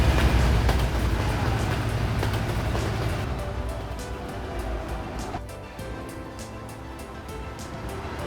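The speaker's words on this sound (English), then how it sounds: "I could hear a train beside us at one point" In Euro Truck Simulator 2, a train rumbles past alongside the road, a steady low roar that slowly fades without any talking.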